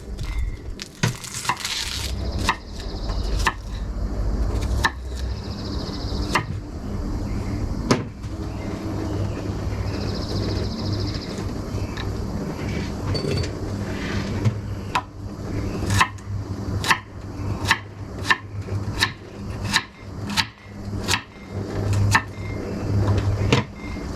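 Onions cut on a cutting board for a moose venison stew, a steady run of sharp knife chops that grow evenly spaced and distinct toward the end, over faint kitchen background with no talking.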